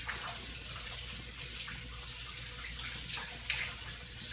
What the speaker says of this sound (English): I'm gonna rinse this knife.